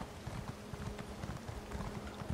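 Horse hooves clip-clop in a quick, even rhythm in the Elder Scrolls Online video game, fairly faint and steady with no talk over them.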